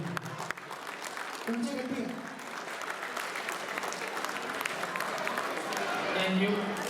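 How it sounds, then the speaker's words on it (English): An audience claps throughout an Ugadi 2024 ceremony honoring a dance team, sustained applause that swells slightly toward the end, with voices talking underneath. "We need some bigger round of applause"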